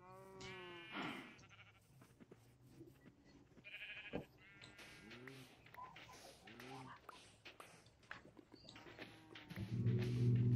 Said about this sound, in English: So many sheep and cow.